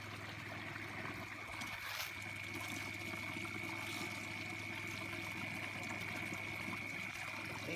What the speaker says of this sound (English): See how the water, it comes over top and it swirls up into that cell.